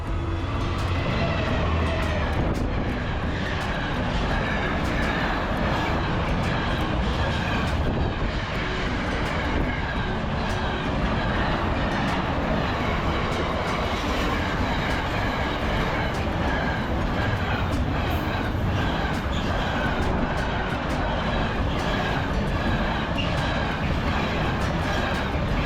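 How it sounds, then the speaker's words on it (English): A long goods train rumbles steadily past close by at Rowston, a continuous clattering roar of wagons that holds at the same loudness throughout. "This time it was for a goods train. It was a long one."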